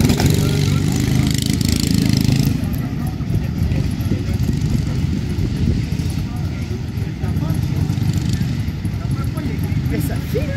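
Ride-on lawn mower tractors race at an event in Saché, their engines droning loud and steady with a rough low rumble close by, crowd voices and talk running over it throughout.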